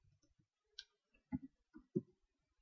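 Keyboard typing in a quiet room, a handful of sparse, faint clicks and taps spaced irregularly.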